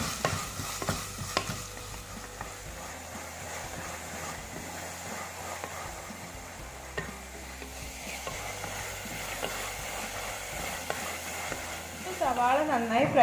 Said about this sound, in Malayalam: പച്ചമുളക് നീളത്തിലരിഞ്ഞത്, സവാള ഇതിട്ട് നന്നായിട്ട് നമുക്കൊന്ന് വഴറ്റിയെടുക്കാം.